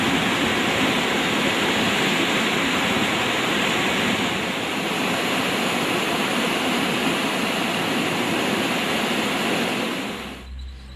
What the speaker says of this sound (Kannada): ಕಳೆದ 24 ಗಂಟೆಗಳಿಂದ ಎಡೆಬಿಡದೆ ಸುರಿತಾ ಇರೋ ಮಳೆಯಿಂದಾಗಿ ತುಂಗಭದ್ರಾ ನದಿಗಳು ಅಪಾಯದ ಮಟ್ಟ ಮೀರಿ ಹರಿತಾ ಇವೆ